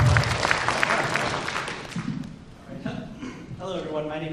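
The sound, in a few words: applause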